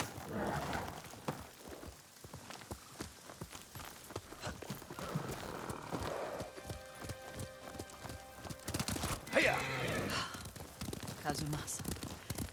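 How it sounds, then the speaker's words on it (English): Horse hooves clip-clop steadily through a ride in the samurai game Ghost of Tsushima, mixed with game music and heard under ongoing dialogue. "Lord Sakai taught me to ride a horse."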